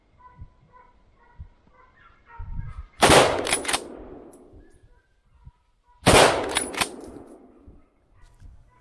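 Two loud rifle shots ring out at a wild boar during a driven hunt in a wooded forest, each a sharp close crack followed by a long echoing decay through the trees, with faint hound barking between.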